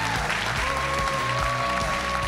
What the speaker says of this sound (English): applause helps all of these people who have donated